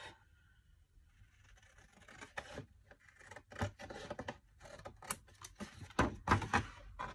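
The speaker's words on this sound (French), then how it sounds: "Et je découpe celui-ci aussi" Handmade card stock being cut by hand, a series of crisp snips and rasping cuts that grow louder and denser toward the end, close up in a quiet room.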